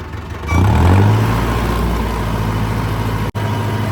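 A tractor engine driving a rotavator revs up to a steady high speed of around 1600 rpm, droning loud and close with one brief dropout near the end.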